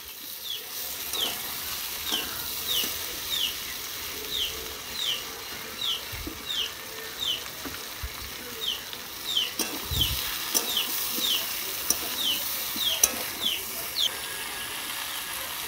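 Eggplant frying in a hot pan, a steady sizzle with occasional stirring scrapes and clicks, continuous and moderately close with no voices.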